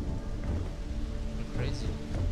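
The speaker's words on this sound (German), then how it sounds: "Das ist Donnerzeug." Thunder rumbling with steady rain in the Starfield video game, a low continuous roar with scattered crackles of drops, fairly loud, with a voice faintly underneath.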